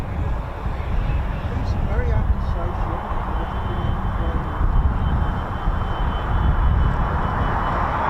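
Eurofighter Typhoon FGR4 jet flying at RAF Coningsby, a broad continuous roar held steady and fairly loud, seemingly at some distance, with people talking faintly in places.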